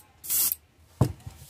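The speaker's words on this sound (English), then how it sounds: "we're just going to spritz this gold over that copper" An airbrush spraying gold paint over copper on a painted golden shiner lure gives a short, close hiss of about a third of a second, followed by a soft clunk.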